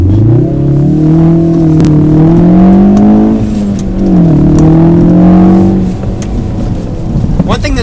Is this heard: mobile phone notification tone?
no